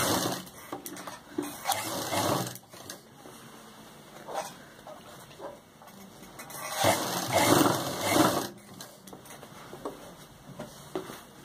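A sewing machine stitches a round lehenga choli neckline in uneven bursts, running, pausing and starting again, with louder fast runs toward the end.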